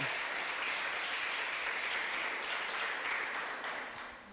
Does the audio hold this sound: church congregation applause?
yes